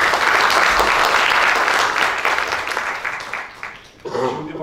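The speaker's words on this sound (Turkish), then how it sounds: "Onlara büyük bir alkış istiyorum sizden." A crowd applauds champion footballers at a Bakırköy gathering, loud sustained clapping that thins and fades toward the end, then a brief burst of voices returns.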